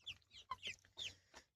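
Broiler chickens 45 days old, about 1.5 kg each, cluck in a farm shed. Several short clucks and squawks come in quick succession at close range and moderate loudness, with no talk.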